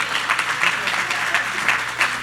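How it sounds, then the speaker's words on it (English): Audience applause at a Black Female Founders venture capital forum, a steady wash of many hands clapping with rhythmic swells, fairly close and filling the whole stretch. "Another round of applause."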